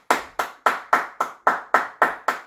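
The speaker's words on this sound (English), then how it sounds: "Clap it up for the Locks." Nine sharp hand claps in a steady, even rhythm, close and fairly loud, each with a quick decay, and no other sound between them.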